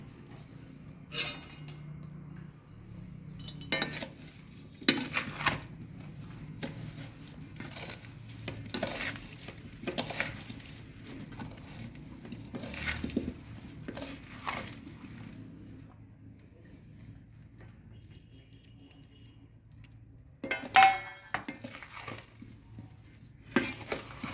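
Mustard seeds and fenugreek being mixed into food in a pan, heard as scattered spoon scrapes and light metallic clinks with pauses between, fairly faint and close over a low background hum, without speech.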